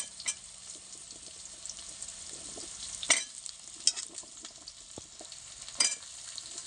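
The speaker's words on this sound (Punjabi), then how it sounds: "ਹੁਣ ਆਪਾਂ ਜਿਹੜਾ ਪੇਠਾ ਕੱਟ ਕੇ ਰੱਖਿਆ ਸੀ ਪੇਠੇ ਨੂੰ ਵਿੱਚ ਐਡ ਕਰ ਦਿੰਨੇ" Cut pumpkin pieces tossed into hot oil with cooked onion, tomato and garlic, sizzling steadily while a spoon stirs, with a few sharp scrapes and clacks against the pan; nearby and fairly quiet, no voices.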